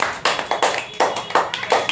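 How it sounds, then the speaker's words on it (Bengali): Schoolchildren in a classroom quiz clap for themselves, a quick run of sharp, close hand claps in an uneven rhythm of about eight bursts. "তোমরা নিজের জন্য হাততালি দাও"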